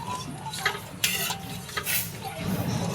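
Milk boiling in a pan for coconut barfi, stirred steadily with soft scraping and occasional spoon taps against the metal, close and fairly quiet, with no talking.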